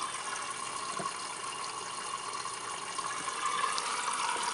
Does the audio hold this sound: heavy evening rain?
no